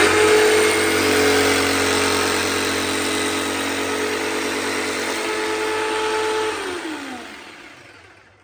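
A powered saw in a woodshop runs loud and steady as its blade makes the final cut through wood, holding an even whirring drone before winding down and fading to silence at the end.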